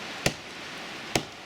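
A cheap hatchet strikes wood outdoors in a forest camp, two sharp isolated chops spaced about a second apart, close and crisp against quiet background.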